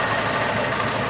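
A 1929 Ford Model A Roadster engine idling, a steady, continuous low rumble close by with no talk over it.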